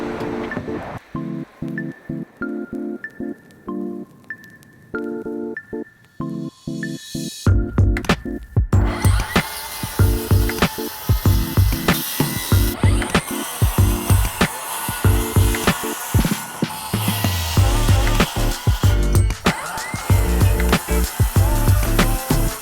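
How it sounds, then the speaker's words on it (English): Skill saw cutting a square opening in a shingle roof for an O'Hagin vent. The motor whines up alone at first, then a loud, gritty rasp of the blade through shingles runs in repeated close bursts. "then we can go ahead and cut this square out with our skill saw."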